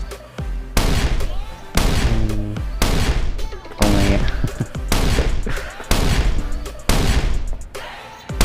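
C4 charges blasting a door in the survival game Last Island of Survival: a rapid series of about eight loud, heavy booms in close succession, with a brief spoken remark among them.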